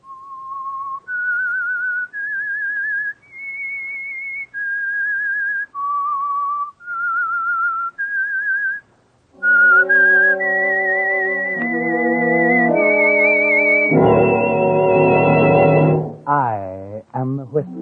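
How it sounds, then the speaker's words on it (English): A clear whistled melody of separate sustained notes, the theme of the radio program The Whistler, then a music-backed passage where the whistling continues over instruments and swells. "That whistle is your signal for the signal oil program"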